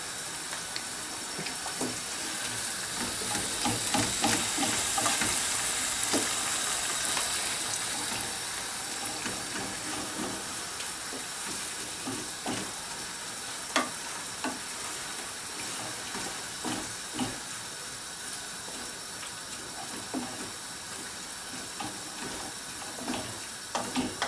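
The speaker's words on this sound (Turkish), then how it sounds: "Domatesimizi döktük. Hafiften altını açıyorum." Chopped tomatoes for Turkish menemen fry over low heat in a pan, giving a steady, even hiss that swells slightly early on and then holds at a soft, constant level, with faint scattered crackles.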